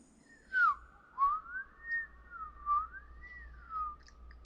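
An SCP-111 snail whistles in a series of sliding tones that rise and fall in pitch, with several long swooping whistles in a row, close and clear above a faint steady hiss.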